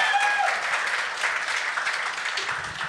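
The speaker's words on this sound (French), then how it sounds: "Donnez-y une main d'applaudissement quand même." A podcast studio audience gives the guest a brief burst of hand clapping, dense and close, fading slightly toward the end.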